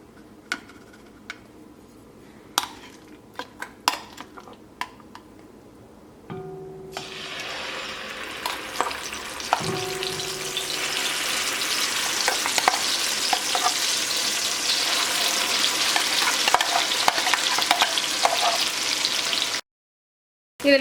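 Onion paste sizzles in hot oil for a Kerala-style chicken roast. The frying starts partway in and is preceded by a few sharp clicks and taps, then builds into a steady, loud sizzle with stirring scrapes and no talk.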